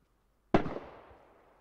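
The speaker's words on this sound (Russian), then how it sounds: "С граников хуярит, слышу." A single sharp explosion from a grenade launcher in a video game, bursting suddenly out of near silence and then decaying into a long rumbling tail.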